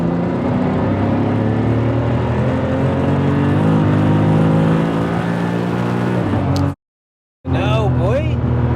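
A 1000hp BMW M3 accelerating hard in fourth gear, its engine roaring loud and close inside the car with a steady rising drone and whine, cutting out briefly near the end before resuming.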